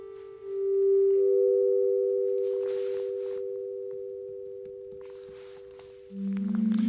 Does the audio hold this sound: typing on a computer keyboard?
no